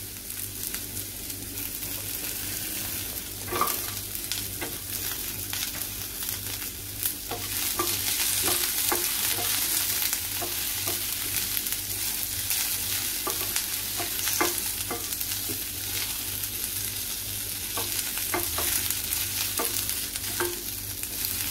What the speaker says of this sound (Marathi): पटापट आपल्याला हे साहित्य परतून घ्यायचे आहेत। तर आपण आलं लसूण घालूया त्याच्यामध्ये,